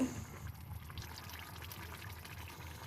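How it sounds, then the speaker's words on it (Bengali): Two cups of hot water pour into a pot of chicken curry, giving a soft continuous splashing and trickling that stays faint and steady throughout. "এই সময় আমি দু কাপ গরম জল দেব"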